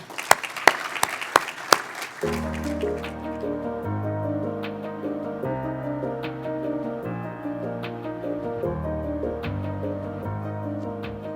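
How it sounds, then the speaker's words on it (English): A few sharp, isolated claps, then a full crowd applauding steadily for several seconds over a sustained tonal music bed at a United Way annual meeting. "please give a round of applause"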